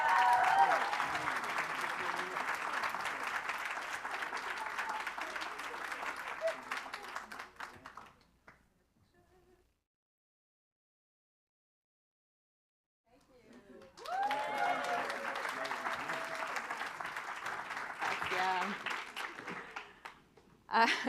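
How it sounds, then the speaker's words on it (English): Sustained audience applause at a conference afternoon plenary, loud and even for several seconds before dying out, then a pause and a second long round of clapping. "give them a round of applause anyway"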